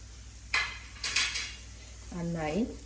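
A spoon clinks and scrapes against a pan as okra (bhindi) masala with kasuri methi is stirred. A few sharp metallic taps come close together, followed by a short voiced hum near the end.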